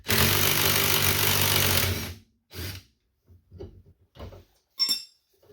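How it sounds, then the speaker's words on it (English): Impact wrench spinning off a rear sway bar link nut on a 2004–2008 Acura TL, a loud two-second burst followed by short rattles and metallic clinks of the tool and parts. "we'll just pull it out with the impact"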